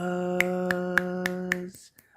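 Five crisp finger snaps land at an even, unhurried pace over a sustained musical tone, which fades out just after the last snap.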